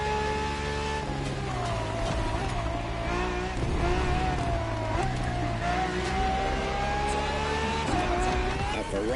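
An extreme track-only Ferrari race car drives in the video game The Crew Motorfest, its engine holding a loud, sustained roar with rising and falling pitch from shifts and acceleration, close and continuous throughout.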